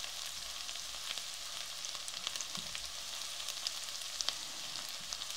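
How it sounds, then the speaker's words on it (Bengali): Onions sizzle steadily in hot oil in a pan, browning lightly, a dense continuous crackle with small pops and an occasional stir, close and unbroken with no talking. "পেঁয়াজটা এখন আমি হালকা বাদামি করে নেব।"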